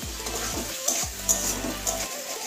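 Flat beans, already cooked through, fry in a generous amount of oil with Maggi masala, giving a steady low sizzle broken by a few sharp spattering pops.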